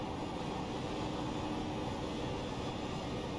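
Stock car engine in a racing video game at Charlotte Motor Speedway, a steady droning roar that holds fairly constant and moderately loud throughout, with no voices over it.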